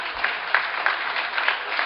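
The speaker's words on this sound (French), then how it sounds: "applaudit Florian Amar" A crowd at a sport boules final in France applauds a player, the steady clapping dotted with a few sharper claps and occasional audible peaks, heard over a slightly muffled, narrow-band recording.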